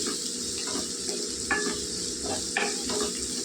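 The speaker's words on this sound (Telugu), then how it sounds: "కొద్దిగా వేగాలండి. చూడండి, ఉల్లిపాయలు వేగిపోయాయండి" Steady low sizzle of onions frying in oil for egg curry, with occasional light scraping or stirring sounds from a pan.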